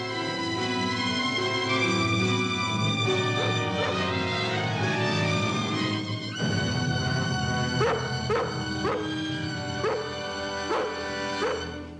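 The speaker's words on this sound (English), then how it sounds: "I think I hear Lassie barking." A dog barks several times in short bursts beneath a loud, sustained orchestral score in the later half.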